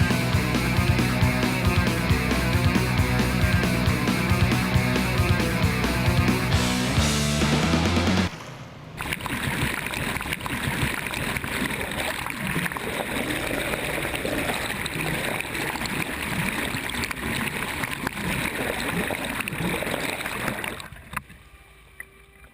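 A Sealegs amphibious boat's engine drones with steady harmonic hum while heading out of a harbor, then cuts to the rush of water and wind as the craft moves along, fading at the end.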